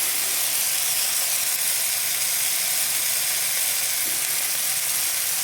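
Ginger sizzling in a hot pan while cooking chicken feet, a steady loud hiss and crackle of frying that continues evenly without pause.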